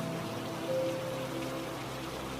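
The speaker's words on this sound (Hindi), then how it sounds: "बारिश की मोटी बूंदें मोतीलाल के शरीर पर ऐसे पड़ रही थीं जैसे पत्थर बरस रहे हों" Heavy rain falls in a steady, dense hiss of drops hitting surfaces, continuous and even with no voices.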